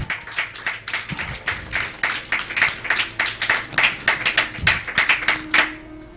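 A church congregation claps for the Lord in a fast, steady rhythm of many hands, close and lively, continuing for several seconds with only faint voices underneath.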